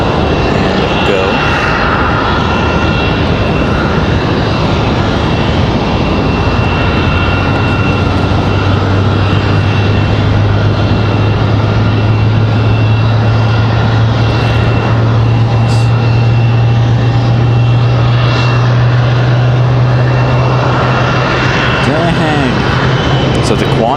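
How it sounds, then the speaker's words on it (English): A United Airbus A319 airliner at Raleigh-Durham International Airport, with a loud, continuous engine roar and a sustained low drone, steady and close throughout. "we have United in that A319 ready to do its thing, push back"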